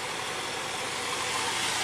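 A small engine idles lean and barely running right after a new carburetor is fitted: a steady, rough, mid-pitched drone with no letup, close by and with no talking.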